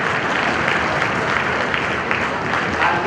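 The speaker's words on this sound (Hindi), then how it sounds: "तालियों में जोर हो" Loud, sustained applause from a youth parliament audience in Siwan for a first-prize winner, dense clapping filling the space evenly with no break.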